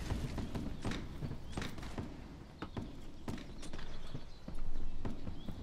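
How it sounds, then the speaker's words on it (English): Horse hooves in the video game Mount & Blade clip-clop steadily at a walking pace, fairly quiet, with a low rumbling background and occasional clanks. "That's a horsey."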